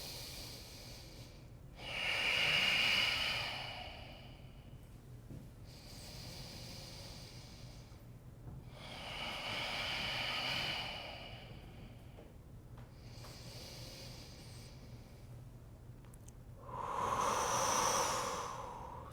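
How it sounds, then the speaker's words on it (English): Yoga breathing held in downward dog: three slow, deep breath cycles, each a loud, close, hissing exhale swelling and fading, separated by quieter inhales against a faint hum. "3 breath cycles."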